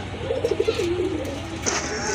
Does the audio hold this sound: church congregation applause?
no